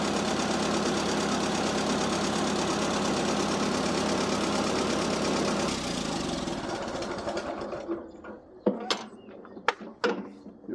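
A Minneapolis Moline or Oliver Super 55 tractor engine runs steady and loud with a close, even knocking idle, then cuts out, leaving a few scattered clanks and knocks near the end.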